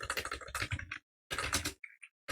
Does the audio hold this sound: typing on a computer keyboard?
yes